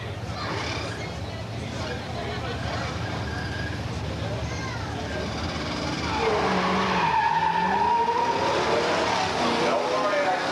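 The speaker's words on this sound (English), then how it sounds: "No burnouts in the pits, please." A muscle car burnout at a drag race lets out wavering tire squeals and skidding over engine rumble, growing louder in the second half, with a voice talking partway through.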